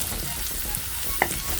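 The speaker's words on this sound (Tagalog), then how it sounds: "sinusutin natin ang sibuyas sa ating garlic kasama ang ating liempo" Onion, garlic and rendered pork belly sautéing in a pan for ginataang gabi, a steady close sizzle with a couple of brief utensil scrapes.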